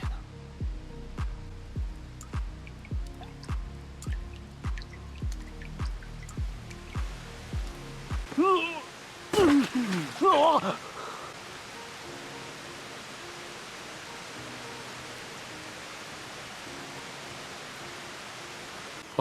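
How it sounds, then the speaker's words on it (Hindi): Steady hissing rain settles in after a stretch of rhythmic thumping and a few brief sharper sounds, then continues evenly to the end. "बारिश हो रही है"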